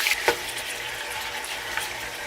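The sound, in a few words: chicken frying in hot oil in a pan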